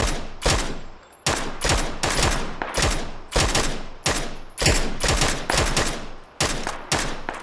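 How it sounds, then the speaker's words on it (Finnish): Rapid bursts of gunfire in the video game PUBG repeat in quick succession, loud and sharp, with brief gaps between volleys and no voices. "Mä kuulen joka paikassa ammuntaa, bro."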